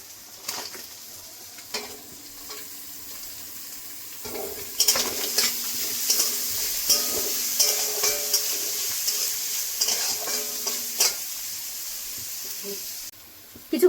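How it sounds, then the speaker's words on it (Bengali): Onions fry in a pan for a chicken roll filling, with a bright sizzle that swells partway through, punctuated by repeated stirring scrapes and clinks, while a voice talks faintly under parts of it. "কিছুক্ষণ ভেজে নিয়েছি, পেঁয়াজ দিয়ে দেবো।"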